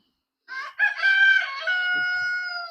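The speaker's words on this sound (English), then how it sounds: "You can hear Mr. Rooster right there, Mr. Crow." A rooster crows once, a loud, close cock-a-doodle-doo with a rising start and long drawn-out finish, on a quiet backyard farm.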